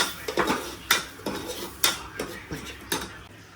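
Spoon clanking against a pot while chicken curry with yogurt gravy is mixed, a run of sharp metallic knocks and scrapes at an uneven rhythm, close and fairly loud, with no talking.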